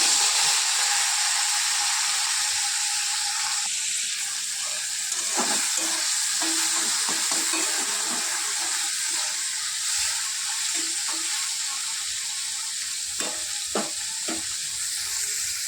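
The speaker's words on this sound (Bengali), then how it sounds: "এই রেসিপিটি করার জন্য আমি প্রথমে চিংড়ি মাছটিকে ভেজে নেব" Prawns frying in oil in a pan give a steady close sizzle, with occasional louder crackles and pops breaking through the hiss.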